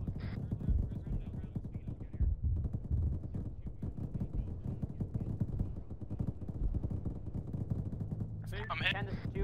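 Sustained gunfire rattles through an Arma 3 battle around a trench line: continuous machine-gun and rifle shots, dense and steady, fairly distant and moderately quiet, with a sharper burst near the end.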